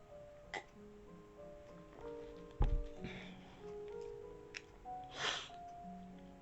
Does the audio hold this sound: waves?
no